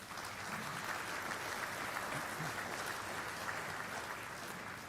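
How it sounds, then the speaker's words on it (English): A banquet hall crowd gives steady, sustained applause for the Shrine football committees at a Shrine Bowl banquet, a dense even roar of clapping holding for the whole stretch with no voices over it. "So I'd like another round of applause for our Shrine football committees"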